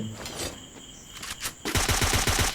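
Sniper rifle fire in the Free Fire video game: a sharp shot lands near the middle, then rapid repeated gunfire erupts loudly in the final second, over quiet in-game ambience.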